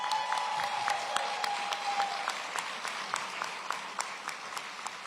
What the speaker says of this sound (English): Might have a new leader for loudest cheer.